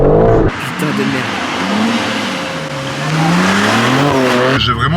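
A BMW M4 with a damaged engine in a racing video game revs loudly and up close, its pitch rising and falling in sweeps while tires squeal, with an abrupt cut near the start and end.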